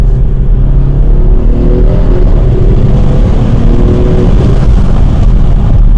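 Audi B9 SQ5 fitted with 034 Motorsport parts accelerating hard, heard from inside the cabin as a loud, constant engine drone with rising tonal layers and turbo sound, no talking.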